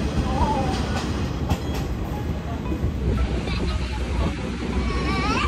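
A passenger train on the Yangon rail line in Myanmar rumbles steadily along the tracks, loud and close from inside the carriage, with a continuous rattling roar and faint rhythmic clatter throughout.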